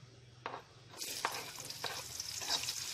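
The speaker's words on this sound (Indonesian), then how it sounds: "Jadi pertama yang kita tumis Tampinay ialah bawang merah." Shallots sautéing in oil, a quiet sizzle that swells after the first second, with a few rhythmic spatula strokes across the pan, close up and with no voices.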